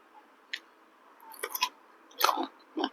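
Pickled ambarella fruit served with chili salt being bitten and chewed up close, giving a few short, crisp crunches spread over a few seconds in a quiet room.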